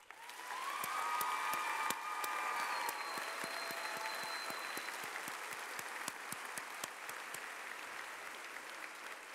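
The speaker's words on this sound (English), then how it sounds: "Audience, please join me in applauding their efforts." Sustained audience applause at a health professions school graduation ceremony, a broad wash of many hands clapping in a large hall, with a few sharp individual claps and faint whistles standing out as it slowly tapers.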